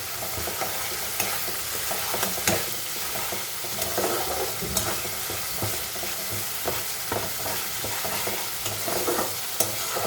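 Spice paste with turmeric and salt sautéing in a pan for shukto, a Bengali vegetable dish, giving a steady close sizzle broken by repeated scrapes and clicks of a stirring spoon, with no talk.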